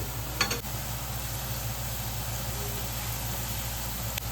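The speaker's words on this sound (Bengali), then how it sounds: "গ্যাসটাকে জোরে দিয়ে প্রথম পেঁয়াজটাকে ভালো করে ভেজে নেব" Onions frying hard over a high gas flame for Kolkata-style mutton biryani, a steady dense sizzle with occasional stirring scrapes, close and continuous, no voices.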